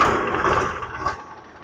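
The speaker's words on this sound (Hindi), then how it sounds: "ट्रैक्टर स्टार्ट कर लिया है।" A Swaraj tractor engine runs after starting, a steady close mechanical rumble and clatter that fades slightly toward the end, with no voices over it.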